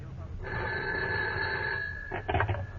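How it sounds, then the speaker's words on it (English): A telephone bell rings in one sustained burst of electronic trilling, fairly loud and close, followed by a brief clatter as if the handset is picked up. "But then my phone rang."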